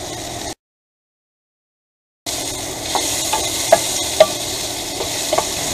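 Sausage and peppers frying in a pan on an RV stove, a steady broadband sizzle with a few sharp pops and stirring clicks, close and continuous after a brief silent gap.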